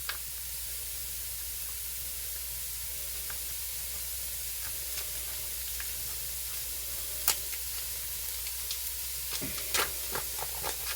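Food browning in a pan at home, a soft continuous sizzle with scattered sharp crackles and pops growing more frequent toward the end.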